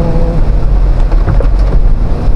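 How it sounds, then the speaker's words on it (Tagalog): Heavy rain pours down on a road trip ride through Laguna, Philippines, in a dense, steady roar with a low rumbling undertone, loud and continuous throughout. "buhos na buhos ang ulan"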